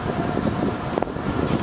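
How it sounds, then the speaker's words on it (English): Wind on the Portsmouth, New Hampshire waterfront decks, a brief, dense rush of gusty buffeting across the microphone with no talking. "A little windy out here today."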